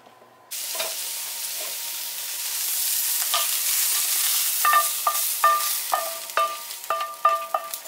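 Leeks hit hot oil in a pan with a sudden, steady sizzle, while metal utensils clink and scrape in quick strokes as they are stirred.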